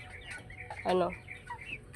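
A chicken gives one loud, close cluck in the middle, with softer bird chirps and clucks scattered around it.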